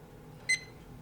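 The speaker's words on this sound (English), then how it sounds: "turn the timer on for 30 minutes" A single short electronic beep from a kitchen oven timer, brief and bright, heard once against a quiet room hum.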